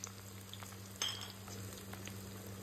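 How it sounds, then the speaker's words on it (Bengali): Black cumin, onion and garlic frying in hot oil, the start of a drumstick (sajna) leaf dish, give a soft, steady sizzle with a brief clink of stirring partway through. "এখন তেল গরম হয়ে গেছে, এখানে কয়েকটা কালো জিরা দিয়ে দিব। তারপরে পেঁয়াজ রসুনগুলো দিয়ে ভালো করে নেড়ে চেড়ে নেব।"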